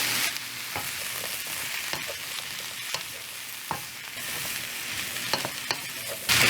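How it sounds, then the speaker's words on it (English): Zucchini, pepper and mushrooms stir-fry in hot oil for gluten-free pad thai, giving a loud continuous sizzle close up, broken by occasional scrapes and taps of the stirring utensil, with no voices. "I'm going to add in the zucchini and pepper. And stir all this around."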